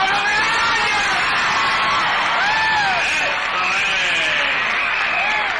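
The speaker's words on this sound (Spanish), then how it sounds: "¿Qué pasa con ese aplauso?" An audience at a live public music show applauds and cheers, with a dense steady wall of clapping and rising whoops and shouts over it, loud and unbroken throughout.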